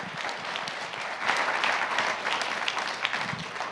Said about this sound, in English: to the whole Sarasota Tech board, big round of applause.